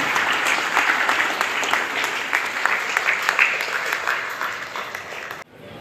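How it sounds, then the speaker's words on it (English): A crowd at a chess tournament closing ceremony gives loud, sustained applause for the chief guest, a thick continuous roar of clapping that cuts off abruptly near the end. "जोरदार तालियां हमारे आज के चीफ गेस्ट के लिए"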